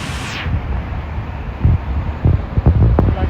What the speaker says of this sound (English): Big waves today. Very windy.